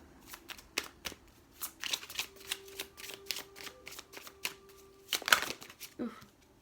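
Oracle cards being shuffled and drawn from a deck during a tarot-style reading, a dense run of quick papery riffles and flicks, close and fairly quiet, with a faint steady hum underneath.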